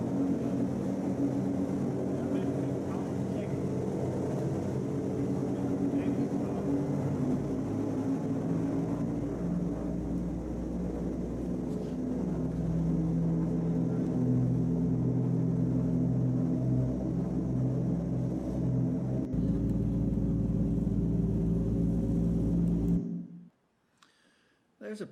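A large piston aircraft with a Wright 3350 engine, rated around 3,500 to 4,000 horsepower, rumbles loudly and steadily for over twenty seconds, then cuts off abruptly near the end.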